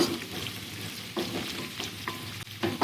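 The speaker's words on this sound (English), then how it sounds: "I'm simply going to add equal amount of flour as I have to the oil, and simply going to stir those together" Flour being stirred into hot rendered pork sausage fat to make a roux, with a soft steady sizzle and scraping stir strokes, a few sharper clicks of the spoon against the pan, and no talk.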